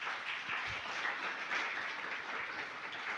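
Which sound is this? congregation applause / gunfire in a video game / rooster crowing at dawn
congregation applause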